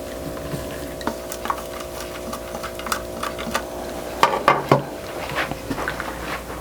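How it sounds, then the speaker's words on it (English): A tool stirs lye into water in an outdoor container for homemade soap, giving irregular scraping and clinking taps with a busy, gritty texture and a brief louder clatter partway through. "just mixing this well so that the lye is all dissolved into the water"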